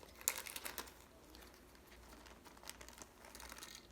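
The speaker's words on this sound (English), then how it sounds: "And then go ahead and dump all of our beans in there." Dried beans and lentils spill from a plastic bag into cups of water, a faint scattered patter and crinkle of the bag coming in close, uneven bursts with no speech.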